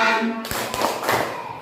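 A group claps along to a children's song, a few short hand claps sounding over voices singing nearby.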